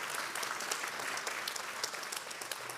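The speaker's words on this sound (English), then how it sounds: "Oh, round of applause there." An audience at a European awards event claps in a steady round of applause, a dense patter of many hands at moderate distance throughout.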